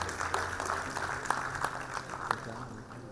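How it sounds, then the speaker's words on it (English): Scattered applause from a graduation ceremony audience at Innovatus Campus, a thin, faint patter of a few hands clapping irregularly, with distinct individual claps and a low room hum beneath. "Please put your hands together for a round of applause."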